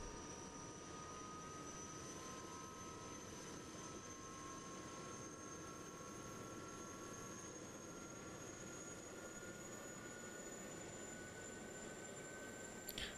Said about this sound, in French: On va pousser doucement à fond. Si on y va trop vite, on risque de noyer le moteur